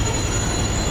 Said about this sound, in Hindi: आ चुकी है अपनी मेट्रो